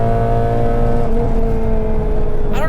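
A rebuilt Nissan Sentra SE-R engine revs loudly from inside the moving car, a steady droning tone that climbs in pitch and then shifts as the driver works through the gears.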